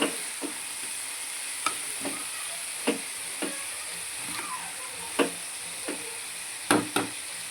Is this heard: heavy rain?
no